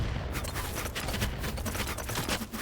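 Dense gunfire in the BattleBit video game, rapid overlapping shots forming a steady, noisy barrage with no clear gaps, moderately loud and continuous throughout.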